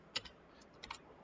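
A few soft keystrokes on a computer keyboard, quiet isolated clicks close by, with no speech.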